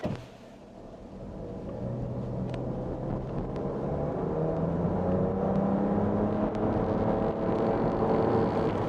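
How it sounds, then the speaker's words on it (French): An electric car accelerates hard from 0 to 100 km/h in sport mode, its motor whirring and rising steadily in pitch under road and tire noise, with no talking. "on va se mettre en mode sport, on va se faire un 0 à 100"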